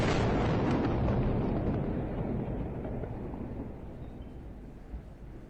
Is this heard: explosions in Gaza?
yes